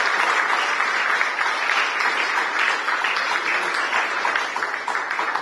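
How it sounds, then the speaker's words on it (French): A seated audience at a university vernissage ceremony honoring a professor gives sustained, dense applause that continues steadily and evenly throughout, loud and close, without a break. "Est-ce qu'on peut encore applaudir sérieux?"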